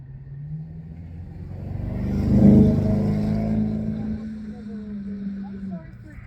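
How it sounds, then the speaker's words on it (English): Car driving past a roadside fishing spot, its engine swelling to a close, loud pass and then fading as a steady rumble, heard alone with no talk. "Where my fishing spot is, there are a lot of cars that go by."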